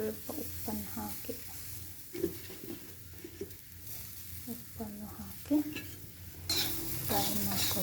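Tomatoes with salt fry in cooking oil in a pan, giving a soft sizzle broken by clinking stirring strokes of a spoon, with a voice talking over it.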